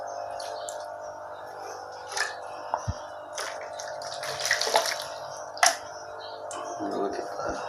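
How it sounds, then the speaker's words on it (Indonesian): Water mixed with ketapang leaf water is poured into a container of betta fish fry, splashing and trickling in uneven bursts close by, with soft drips and sloshing against a faint steady background hum. "Kita siram-siram aja di sini."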